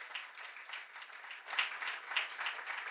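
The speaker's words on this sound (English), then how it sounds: "giving him a round of applause" A crowd applauds with continuous clapping that rises and falls slightly, heard from a distance and fairly soft, with no speech over it.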